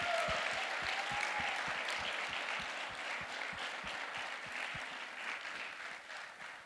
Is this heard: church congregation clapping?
yes